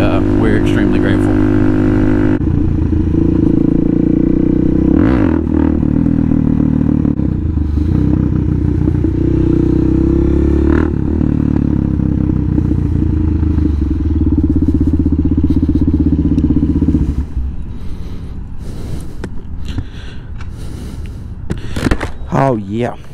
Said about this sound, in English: A Suzuki DRZ400. It's pretty fun. It's like a dirt bike for the street.